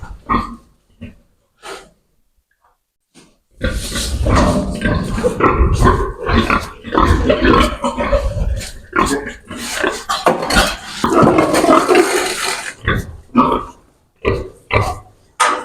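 Piglets and a sow in a barn snort, grunt and breathe in bursts, close by, with shuffling and rustling; quiet at first, then busy, rapid grunting for most of the clip.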